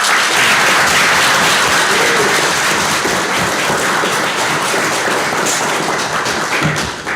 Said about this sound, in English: Would you give all of our recipients one more round of applause?